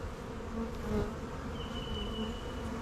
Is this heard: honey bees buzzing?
yes